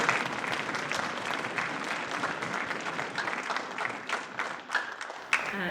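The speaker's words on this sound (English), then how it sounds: "So if you can give him a round of applause." An audience at a winter orchestra concert breaks into sustained applause, a broad wash of many clapping hands in a large room that holds steady for several seconds.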